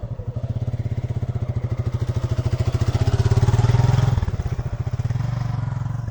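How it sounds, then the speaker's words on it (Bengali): A motorcycle putters close by in a rural riverine char area, its engine a steady rapid thumping that swells louder around the middle and then eases off as it moves on. "তাদের যানবাহন হচ্ছে মোটর সাইকেল।"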